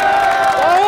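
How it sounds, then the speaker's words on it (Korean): A loud, sustained roar of high school students cheering and shouting together on a school sports field, a dense wall of voices lasting about a second. "여러분 함성 한번 질러주세요"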